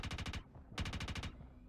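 Automatic gunfire in a video game: two rapid bursts of about five shots each, separated by a short pause, loud and close with a clipped, punchy rhythm.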